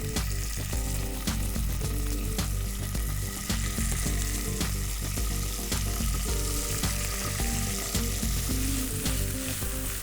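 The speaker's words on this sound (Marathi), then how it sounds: "आणि मंद आचेवरती आपण मशरूम बटर आणि तेलावरती फ्राय करून घेऊया" Mushrooms frying in butter and oil over low heat, a loud, continuous close sizzle with constant popping and crackling throughout, accompanied by a steady hum and occasional stirring.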